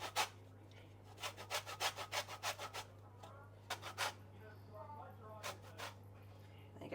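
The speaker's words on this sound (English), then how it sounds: "So the zest of 1 lemon." A lemon rubbed against a zester or grater while lemon zest is prepared for stuffed portobello mushrooms, giving rapid bursts of dry scraping strokes in quick rhythmic runs, close and fairly quiet over a steady background hum.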